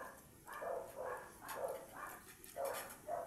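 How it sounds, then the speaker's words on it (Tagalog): A dog barks repeatedly in a steady rhythm, about twice a second, somewhat distant and fairly faint. "Ingay ng aso."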